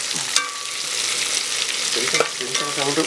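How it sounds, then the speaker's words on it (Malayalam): Sliced onions fry and get stirred in hot oil for a beef fry, a steady close sizzle with scraping spoon strokes and a few sharper clinks against the pan, no voices. "സവാള പച്ചപ്പ് മാറുന്ന വരെ നന്നായിട്ട് ഇളക്കുക"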